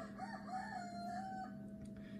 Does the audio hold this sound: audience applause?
no